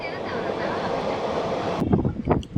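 Guntakal passenger train running near Dhone, a steady rumbling roar of wheels on track heard from on board, with a brief clattering change near the end.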